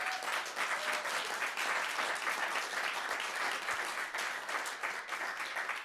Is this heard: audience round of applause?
yes